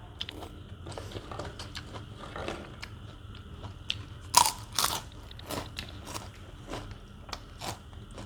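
Crispy pork rinds crunch loudly alongside a bowl of pork noodles, with repeated close bites and chewing that crackle irregularly and peak in a few sharp crunches.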